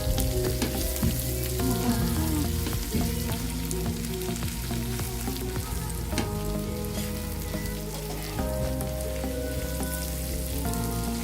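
Petai beans and a seasoning mixture stir-fried in a pan, a loud continuous sizzle with scraping stirs over a steady background hum and music, no talk.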